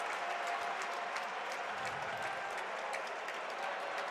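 Basketball arena crowd at an NCAA tournament Sweet 16 game between Michigan and Alabama, cheering and applauding after a three-pointer, a dense, sustained roar of clapping and voices filling the whole stretch.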